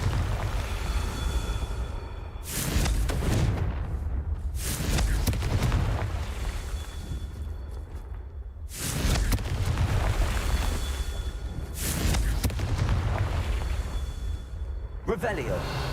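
Confringo spells explode in a Harry Potter video game: four or five booming, full-range blasts, each with a roaring decay several seconds long, spaced a few seconds apart while a voice talks over the din.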